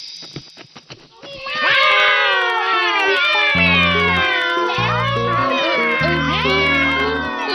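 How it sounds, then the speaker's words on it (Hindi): Repeated loud, drawn-out cartoon cat meows, several overlapping and wavering, with low synthetic tones pulsing underneath partway through. "ये आवाज बिल्लियों के लिए है।"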